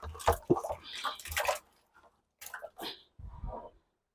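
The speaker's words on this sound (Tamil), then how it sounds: "அடுத்தது இந்த 10 கிலோ சாணியை கரைச்சி இதில் ஊற்றிடுறேன்." Dissolved slurry of 10 kg of cow dung, made for an organic soil solution, poured into a container in several splashy bursts with short silent gaps.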